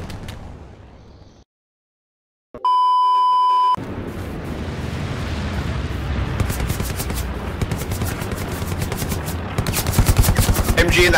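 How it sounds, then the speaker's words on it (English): Machine gun fire in the WWII shooter Hell Let Loose, sustained rapid bursts that grow louder and denser toward the end. It follows a brief silence and a steady electronic tone, and bits of voice chatter are heard underneath. "MG in the house behind us."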